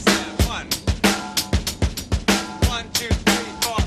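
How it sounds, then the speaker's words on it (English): A drum kit plays a groove in 7/8, with dense kick, snare and cymbal hits repeating in a steady odd-meter cycle, loud and close with no talking. "All right, I'll turn it into 7/8."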